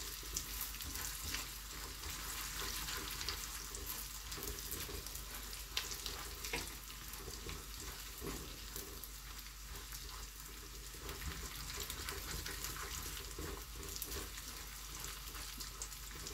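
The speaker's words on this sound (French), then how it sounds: "je vais laisser ces ingrédients cuire ensemble." Peanuts, chili and garlic cooking together in a pan for a spicy peanut chutney, giving a steady, even sizzle that runs unbroken at moderate level with no talking.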